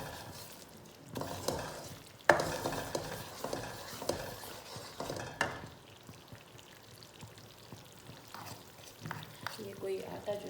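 Flour being stirred and roasted in ghee and jaggery in a kadai, heard as uneven scraping and soft sizzling strokes with a few sharper clatters, close and moderate in level.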